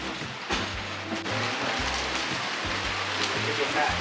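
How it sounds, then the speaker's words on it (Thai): Steady rain falls on an outdoor film set, a dense even hiss that runs throughout while someone talks over it. "ฝนตกนะครับ"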